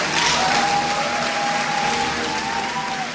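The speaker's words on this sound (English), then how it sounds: "It's wonderful to be at a physics event where there is applause like there is at a football game." Crowd at a physics event applauding the announcement of a Higgs boson discovery, loud sustained clapping from a large audience filling the room with a faint tone running underneath.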